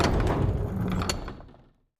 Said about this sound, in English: The outer airlock door opened, and they descended the ramp to the surface.